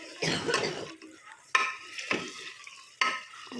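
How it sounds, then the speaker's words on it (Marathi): Marinated chicken is stirred into fried onions in a pan for a spicy chicken gravy: a spoon scrapes in three firm strokes over a soft sizzle, each starting with a sharp clack. "आता मॅरिनेट केलेलं चिकन घालायचं आहे आणि व्यवस्थित हलवून घ्यायचं आहे ते"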